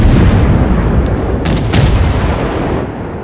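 Naval guns fire at an island in World of Warships, producing a loud, heavy rumbling roar with a few faint sharper reports, slowly easing off.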